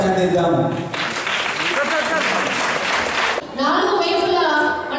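Applause and clapping from an outdoor crowd at a flag hoisting ceremony where a collector honors freedom fighters, a broad wash of sustained clapping in the middle, with speech before and after it.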